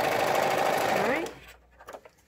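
A sewing machine stitches down pleats on a homemade fabric face mask, running fast and steady with a whirring drone for just over a second before stopping, followed by a few faint clicks.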